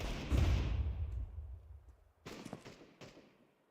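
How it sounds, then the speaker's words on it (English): A flashbang grenade in Counter-Strike 2 gives a sharp, booming burst that decays over about two seconds, followed by a few quick, close clattering thuds. "Flashbang."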